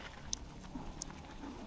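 Heavy rain patters steadily in a city street during a delivery run, a soft continuous wash of drops with a few sharper taps, faint and even with no one speaking.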